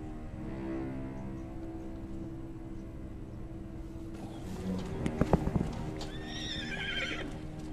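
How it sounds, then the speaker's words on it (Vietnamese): A donkey in a wild desert setting brays in rising, harmonic heaves near the end, with a few sharp hoof strikes and thuds just before, over a steady low rumble of background noise. "hình như đây là con lừa"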